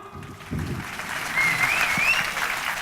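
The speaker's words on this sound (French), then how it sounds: "Et applaudissements." An audience applauds at an outdoor jazz festival, a dense wash of clapping that swells after a soft start and stays steady, with a faint whistle rising over it.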